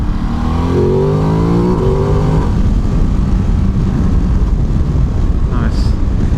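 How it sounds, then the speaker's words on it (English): A loud Ducati Desert X motorcycle engine revs up with a rising, gravelly intake roar, then settles into a steady drone mixed with heavy wind rush. "The induction noise is quite loud."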